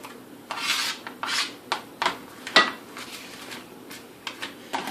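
A knife minces a single garlic clove on a cutting board, with a series of short rasping, scraping strokes at an uneven rhythm, close and fairly quiet.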